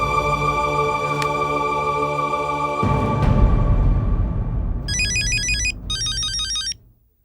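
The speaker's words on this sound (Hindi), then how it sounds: "भिड़े अंकल का फोन।" A phone ringtone plays a loud repeating melody, then shifts into a busier tune before cutting off abruptly.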